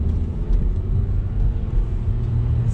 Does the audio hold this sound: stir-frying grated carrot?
no